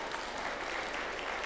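An audience applauds to vote for a female Bengal cat at a cat show, a steady, dense wash of clapping that holds evenly throughout without any voices standing out.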